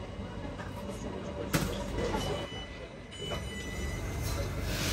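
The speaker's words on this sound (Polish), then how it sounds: "Zaraz zajedzie pociąg." A metro train rumbles into a station in Bangkok, a steady low roar of wheels and motor with a brief sharp clank partway through, heard from close by on the platform.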